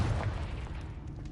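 A Confringo fire spell detonates in Hogwarts Legacy, a deep, rumbling blast with heavy low boom that sustains loudly and then slowly fades.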